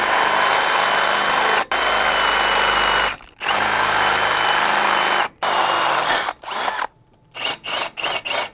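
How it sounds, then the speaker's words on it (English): A power drill bores 5/8-inch holes through a steel rear end bracket plate for a leaf spring perch on a Chevy C10, loud sustained whirring in several long bursts, then short stuttering pulses at the end. "We'll mark it and drill 2 5/8 holes."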